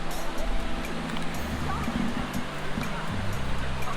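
Steady rushing water from a low-flowing waterfall in the Finger Lakes region of New York, a continuous broadband wash close by with faint tonal hum underneath.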